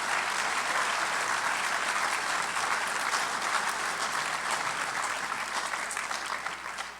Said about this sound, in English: That's a good time to applaud.